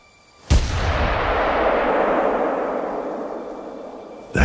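A single loud rifle shot fires in the hunting game theHunter: Call of the Wild, its boom rolling into a long fading echo before a second sharp crack at the end.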